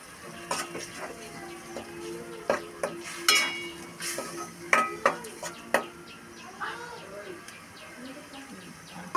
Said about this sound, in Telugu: నేను ఫస్ట్ ఆయిల్ కాగాక రెండు ఉల్లిపాయ గుజ్జు మిక్సీ బట్టి వేసుకుంటున్నానండి.